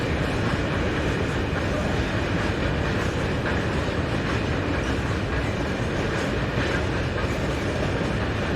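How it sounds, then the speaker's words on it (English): An Italian Railways class 652 electric locomotive departs toward Cremona with a train, producing a steady, loud, dense rumble of wheels and rail noise throughout. "Italian Railways 652060 is seen departing in the Cremona direction"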